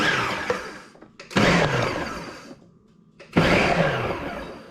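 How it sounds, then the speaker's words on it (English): A countertop blender pulses in two loud bursts, each a few seconds of whirring blade noise that winds down, separated by near silence; the blending pulses mix ingredients for a cheese and onion pie filling. "I'm just going to give it a little pulse. So I press the pulse button."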